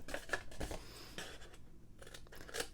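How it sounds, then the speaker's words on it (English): Scoring paper for a handmade gift box: a series of short scratchy cutting and dragging strokes on paper, close and quiet, with a brief silent pause before a few more strokes. "we're going to go in on the long side and cut our score lines"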